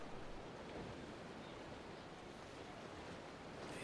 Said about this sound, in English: Just high waves.